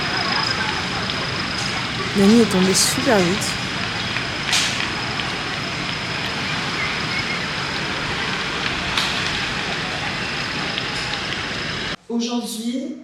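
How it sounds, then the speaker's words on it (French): Steady rain falls at night over Brazzaville, Congo, a dense, even hiss running throughout, with a voice speaking over it and a few brief louder noises near the start. "Voilà, il pleut sur Brazzaville."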